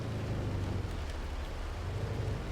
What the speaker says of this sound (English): we're in an area of very heavy downpour here